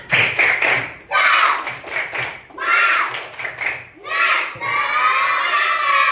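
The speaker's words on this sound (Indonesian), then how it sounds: "Ibu mau dengar dulu nih semangat kalian dengan tepuk semangat" Schoolchildren in an Indonesian classroom perform a 'tepuk semangat' spirit clap chant, bursts of rhythmic group clapping alternating with loud shouted chanting voices, close and energetic in several phrases.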